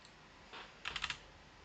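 Code typed on a computer keyboard: one soft keystroke and then a quick cluster of four or five clicky taps, close and fairly quiet.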